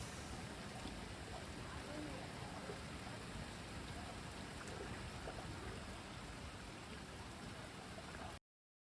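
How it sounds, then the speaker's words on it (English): Rain falls steadily outdoors in England, a soft, even hiss of drops that holds at a constant level with no other sounds and then cuts off abruptly at the end. "I love England when it rains."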